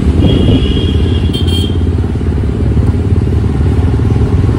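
A motorcycle engine runs steadily nearby on a family outing, a loud continuous low rumble with no clear revving and no speech over it.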